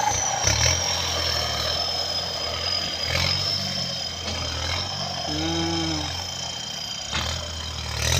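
A Kubota M7508 turbo tractor's diesel engine runs steadily nearby, a continuous low rumble with a faint whine above it and no talk.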